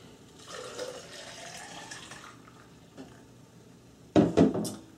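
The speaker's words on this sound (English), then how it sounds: "I can just go ahead and pour this into my cup." Green juice being poured into a cup after draining from a juicer, a steady watery trickle for a couple of seconds, a brief drip, then a louder splashing burst near the end.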